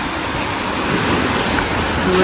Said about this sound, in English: The waves are coming but they're not big.